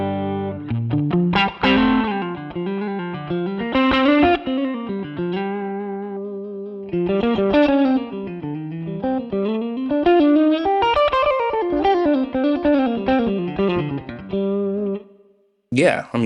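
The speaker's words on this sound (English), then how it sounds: "So it's a really, really warm Fender tone." A clean electric guitar through a Quad Cortex capture of a 1965 Fender Pro Reverb amp plays warm, round single notes and chords with a touch of reverb, phrases ringing out before a short pause near the end.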